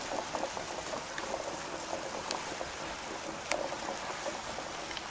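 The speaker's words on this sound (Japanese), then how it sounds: "ブクブクブクブクしてきたらここから25分計ります。" Food sealed in a polythene bag cooks in a pot of water at a rolling boil, a steady close bubbling and gurgling with occasional louder pops and no voices.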